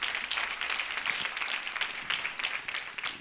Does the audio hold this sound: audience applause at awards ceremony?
yes